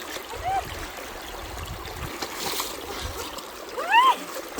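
River water ripples and splashes gently around bare feet wading in the shallows, a steady soft trickling with occasional sloshing, while a person talks and faint bird calls sound nearby.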